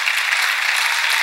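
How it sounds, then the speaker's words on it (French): A crowd at the official premiere of the film "Le courage d'un champion" applauds after a speech, a brief, loud and steady burst of clapping with no voices over it. "Est-ce que nous pouvons encore applaudir fortement?"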